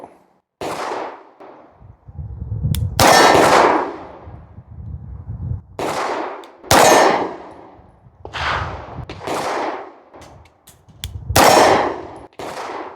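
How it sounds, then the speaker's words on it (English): Repeated gunshots at a shooting range target, sharp loud reports spaced a couple of seconds apart, each with a short ringing decay and clang, some quieter shots between the louder ones. "just firing a few rounds, that wasn't so bad"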